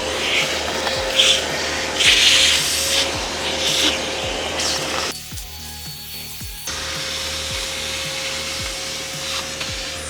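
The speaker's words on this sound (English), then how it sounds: "If you want it to be fast and effective, is by using a vacuum cleaner." A vacuum cleaner cleaning crevices, jambs and enclosed areas of a car runs loudly and continuously, with rubbing and scraping of plastic on plastic, a brief muffled stretch as the nozzle presses in, then the steady whine again.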